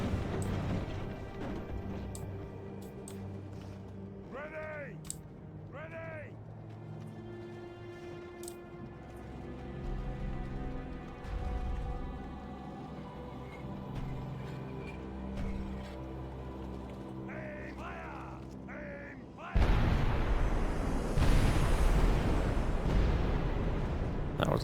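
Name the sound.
cannon fire on wooden walls in Medieval 2 Total War video game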